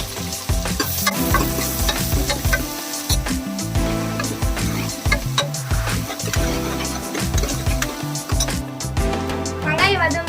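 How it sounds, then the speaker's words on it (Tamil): Finely chopped large onions hit hot oil with bay leaf, cardamom and star anise for chicken kurma, sizzling loudly and steadily while a spoon scrapes and stirs the pan in repeated strokes, with a voice speaking over it. "கூடவே பொடியாக நறுக்கின பெரிய வெங்காயம் சேர்த்துக்கலாம்."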